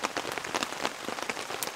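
Rain pours down steadily on a campsite, a dense, even patter of drops striking the ground and gear throughout, moderately quiet with no voices.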